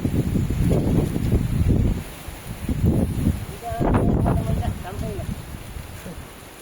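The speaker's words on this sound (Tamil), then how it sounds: "ரொம்ப காற்று அடிக்குது" Strong wind buffets the microphone outdoors in uneven, loud gusts, with people talking underneath.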